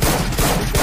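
Rapid bursts of gunfire from the Free Fire battle royale game during a live grand final esports match, dense and continuous across the short moment, loud and close with no talk over it.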